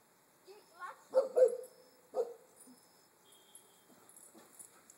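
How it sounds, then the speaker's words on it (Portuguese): A dog gives a few short barks and yips at a sour orange, with a brief cluster and then a single bark before falling quiet, in a quiet indoor setting. "ele late pra laranja"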